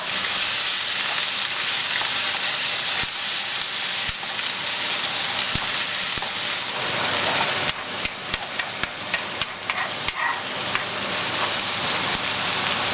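Onions and garlic frying in a pan for Javanese bami goreng, a steady loud sizzle with occasional sharp crackles and pops toward the end, no talking.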